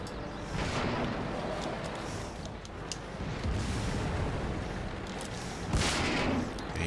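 Tank cannon fire and explosions in the World of Tanks video game, a dense barrage of booming shots and blasts with a sharper, louder report near the end, no voices.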